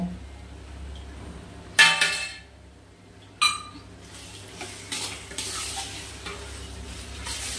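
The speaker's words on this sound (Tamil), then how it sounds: "இது ஒரு ரெண்டு நிமிஷம் அப்படி கிண்டணும் உள்ளே நல்லா வேகணும்" Turmeric frying in oil for a citron pickle is stirred in a pan, with soft sizzling throughout and two sharp scraping clinks of the spoon against the pan, close and without talk.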